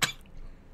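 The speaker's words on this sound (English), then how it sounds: "Sorry for the snarly cough." A single short, rough, snarly cough bursts out at the start and quickly fades into quiet room tone, close to the microphone with no talking.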